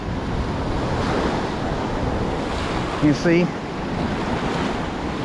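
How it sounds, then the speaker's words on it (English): Surf rolls in steadily on Miramar Beach, Florida on a red flag day, a broad continuous wash mixed with wind buffeting the microphone, as someone briefly speaks over it. "And here's the ocean."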